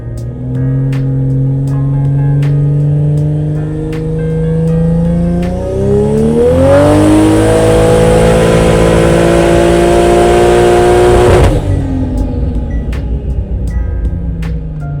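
A tuned no-prep drag car with a new intercooler on a final tuning pull, its engine droning loud and steady, then revving hard and climbing to a roaring peak before cutting back to idle.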